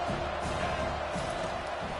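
Stadium crowd at a college football game roaring after a defensive stop on third down, a dense, steady wall of cheering noise that stays loud throughout the brief moment.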